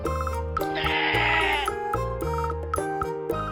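A goat bleats in a children's moral story about two silly goats, a wavering cry in the middle set against a light musical backing, with no talking.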